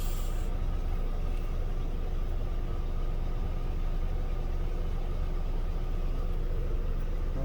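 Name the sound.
car engine running without shutting off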